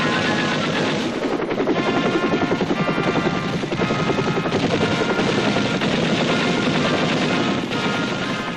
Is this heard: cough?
no